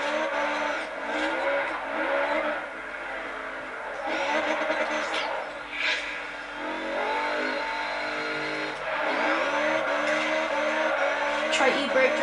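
A Honda S2000 drifting in the Forza Horizon racing game, its engine revving steadily with tire squeal and skids, held near and loud throughout while a voice talks over it.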